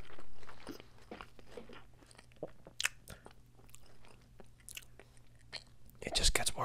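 Crunchy bites and chewing on a Travis Scott bacon burger with barbecue sauce, close and fairly quiet, with a few sharp crunches and a loud burst of chewing near the end, over a steady low hum.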